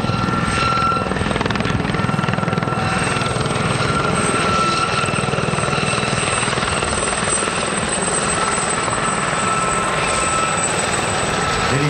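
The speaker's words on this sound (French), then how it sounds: "l'hélicoptère fait des 360 tours pour sécuriser la zone." Loud, continuous helicopter rotor thudding with a whining engine tone, close and steady throughout, no speech, at a helicopter aerobatics show in Cholet, France.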